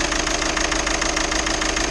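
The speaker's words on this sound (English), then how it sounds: "You can see the engine misfiring and jerking all over the place because it's not running smoothly" A Skoda engine with a faulty injector misfires while idling, a steady, dense rough running with uneven knocking pulses, loud and close throughout without any voices.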